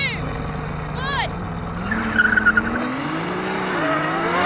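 A Ferrari launches hard in a drag race, engine note climbing steeply through the revs with tyre squeal and skidding, loud and close, with a brief gear shift and people talking over it.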